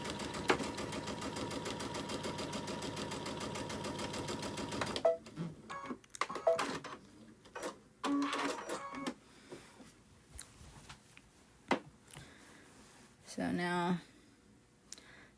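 A sewing machine runs steadily at a raised speed, stitching a straight seam at stitch length 3.5. The whirring, rattling drive holds for about five seconds, then stops and gives way to scattered handling clicks and brief bursts of motor.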